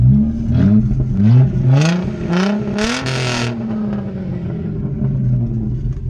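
An Audi A4 with both mufflers removed revs loudly up close in repeated rising bursts. Each harsh blip climbs in pitch, then drops back to a rough, throaty idle.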